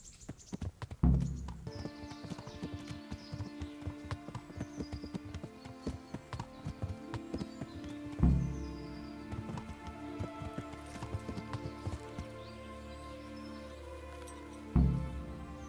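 Horse hooves clip-clop in the medieval video game Kingdom Come: Deliverance, a quiet steady trot beneath sustained music with a few heavier thumps.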